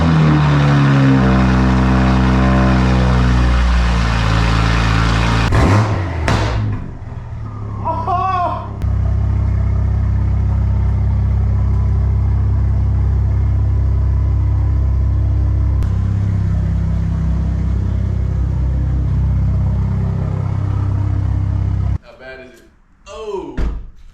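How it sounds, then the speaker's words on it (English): A Toyota Supra engine cranks and catches after an oil change, then settles into a steady, loud, low idle rumble with a door thud and some handling noise near the end. "Now we're gonna give her a startup, let the oil circulate throughout the engine"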